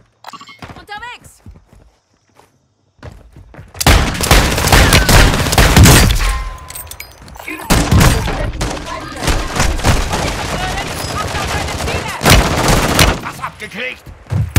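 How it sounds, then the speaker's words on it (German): Gunfire in the online shooter Warzone 2.0 on the Al Mazrah map: loud bursts and volleys of shots fill most of the stretch, with quieter gaps between them and game voice lines over the top. "Unter direktem Beschuss."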